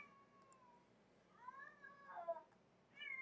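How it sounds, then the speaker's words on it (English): Two house cats, a new kitten pestering an older cat, meowing quietly indoors: a drawn-out meow, then a couple of rising, wavering cries and a final short mew, close and fairly soft. "the new kitten is torturing my older cat."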